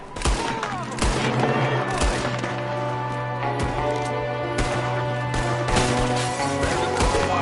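A Red Dead Redemption 2 shootout with steady gunfire, shots cracking again and again over a low droning background, some close and sharp, others more distant, and no talking.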